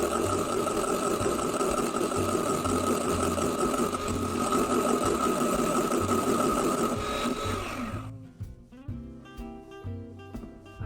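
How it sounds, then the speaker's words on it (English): An electric beater whips egg whites with cream of tartar toward stiff peaks, giving a steady, loud motor whir for about eight seconds before cutting off, followed by quieter clinking. "I've got my trusty beater and I'm going to beat those until they are stiff."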